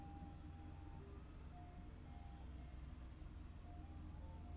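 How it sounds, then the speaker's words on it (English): An ice cream truck plays its faint, distant melody outside, short tinny notes drifting over a steady low background hum. "the ice cream truck is outside"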